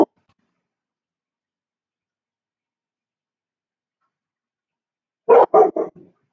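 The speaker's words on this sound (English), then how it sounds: "Sorry about the dog." A dog barks four quick times in a row, fairly close and loud, after a long stretch of silence.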